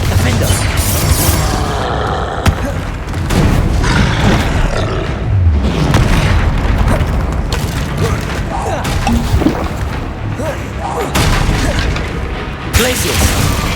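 Fire-blast Confringo spells fly during a troll fight in Hogwarts Legacy, a loud, unbroken wall of booming impacts, crashes and deep creature roars, with sharper bursts near the start and end.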